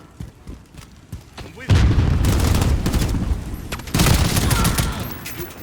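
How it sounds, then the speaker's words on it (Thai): Loud gunfire erupts in a first-person video game running Nvidia ray tracing: two sharp bursts of rapid shots with booming echoes, separated by a brief quieter gap. "โอ้ยิงแบบทีละนัดดีกว่านะกระบอกนี้นะ คือระบบแรงถีบของปืนนี่สมจริงมาก"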